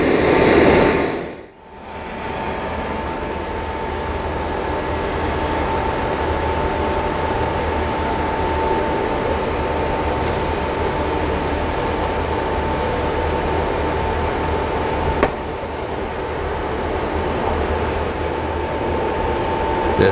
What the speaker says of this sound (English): a video of potting a blowtorch onto the top of the piston of the crown of a non-coated